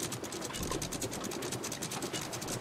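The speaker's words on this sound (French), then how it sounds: "Jetez l'ancre." Ship anchor dropping in the pirate game Sea of Thieves, heard as a steady, rapid mechanical ratcheting of the chain that runs unbroken for the whole stretch, with no one talking.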